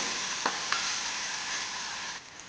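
Tomatoes sizzle steadily in hot oil in a pan for a masala sweet corn sabzi, with a couple of soft spoon scrapes as they are stirred, close and continuous.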